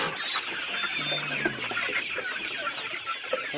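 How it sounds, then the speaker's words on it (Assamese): Hungry local chickens clucking steadily inside a farmhouse coop, several birds overlapping in a continuous close chorus with occasional louder squawks. "আমাৰ মুৰ্গীৰ ৰুমটো য'ত আমাৰ মুৰ্গী আছে চব একদম ভোকত তৰাই আছে"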